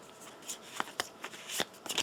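Game cards for the Kingdom Death Monster board game being shuffled by hand in quick riffling bursts and soft flicks, close and fairly quiet over room noise.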